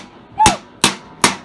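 Three sharp, loud metallic bangs strike a toaster oven roughly every 0.4 seconds, each with a short ringing decay, the first preceded by a brief vocal sound.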